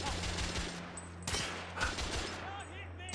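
Rapid bursts of gunfire in The Order: 1886, crackling volleys with sharp individual shots layered over a low steady hum, moderately loud throughout.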